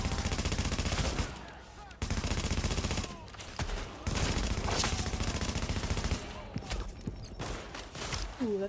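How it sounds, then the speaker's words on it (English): Sniper gunfire in a video game: loud, dense volleys of shots crackle almost continuously, broken by a few brief pauses, with a faint voice surfacing near the end. "Ooh, that's snipers."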